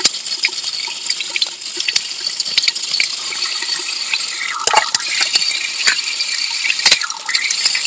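Water runs from a tap into a bowl holding green bananas, a continuous splashing gush at close range with a few sharp knocks and clinks along the way.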